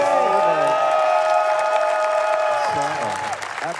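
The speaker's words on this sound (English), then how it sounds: "Nevio, applaudissez." A crowd applauds runner Nevio at the SpeeDons 2025 speedrun charity marathon, with steady, dense clapping that holds for several seconds under a sustained tonal backdrop and then thins out near the end.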